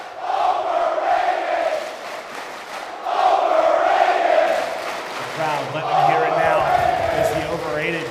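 An arena crowd at a Call of Duty esports match roaring and chanting in loud sustained waves, swelling and easing several times, with a deeper voice rising briefly near the end.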